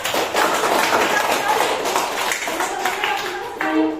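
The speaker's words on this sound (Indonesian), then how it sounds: "Tepuk tangan dulu tuh temannya." Classroom children clapping hands for a classmate, a dense patter of claps filling the clip alongside a teacher's voice and general room noise.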